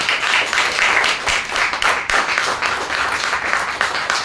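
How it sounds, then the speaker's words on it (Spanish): A church congregation at a Sunday service in Cuernavaca breaks into loud, sustained applause, many hands clapping densely and close for several seconds with slight swells and dips. "¿Podemos darle un aplauso al Señor Jesucristo?"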